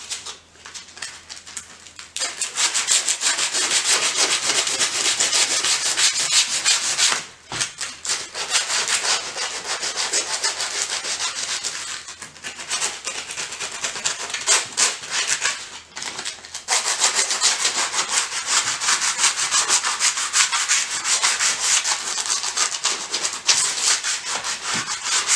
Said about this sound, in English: So I'm going to sand it down using the P80